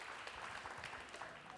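Studio audience applause during a 1983 live Korean broadcast reuniting separated families, a faint, steady patter of many hands clapping that stays even throughout, heard at a distance without voices.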